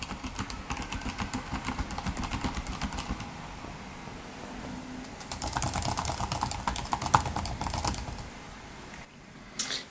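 Typing on the keyboard of a Lenovo Yoga Pro 7 laptop with AMD 7840H and 1.5 mm key travel: dense, continuous close-up keystrokes clattering steadily for about ten seconds, with a faster, louder burst in the second half and no talking.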